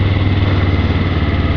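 Motorcycle engine in first gear during a basic riding lesson, a loud, steady close-up drone with a low throbbing pulse, throttle held up, no talk.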